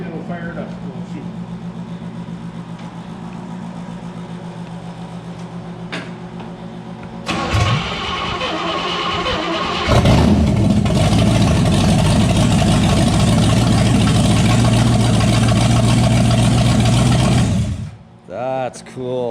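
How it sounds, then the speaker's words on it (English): A big block engine with open headers on a 4-speed car cranks, fires and revs hard, a loud, raw rumble that builds to a sustained roar before cutting off, with people talking over it. "big block open headers, 4-speed"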